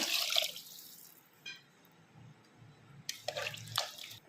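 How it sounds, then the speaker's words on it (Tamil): Water splashes and pours briefly into kodo millet rice, with a few faint trickles and drips following, close by in a quiet room. "இப்போ இதோட இதுக்கு தேவையான தண்ணி சேர்த்துக்கலாம்"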